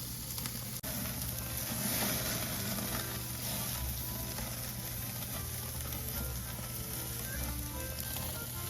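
Steaks sizzle on a barbecue grill as they cook toward medium rare, making a steady, dense hiss that runs evenly and loud from start to finish, with no voices.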